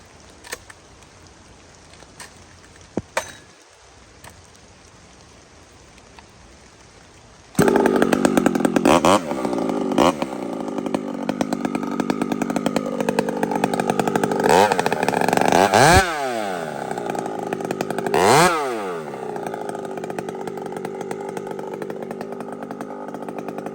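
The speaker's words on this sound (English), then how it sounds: "This is the Donnie Walker 75 pot, right? Like a big bore 72 with a full house grind" A big bore 72 chainsaw fitted with a 75 cylinder and a full-house grind starts after a quiet stretch, then runs loud and close with repeated revs rising and falling over a steady engine roar.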